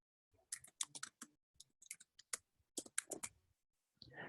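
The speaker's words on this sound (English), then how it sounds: "I hear you typing." Typing on a computer keyboard during an online call, irregular bursts of close, crisp key clicks with short pauses, ending in a faint rustle.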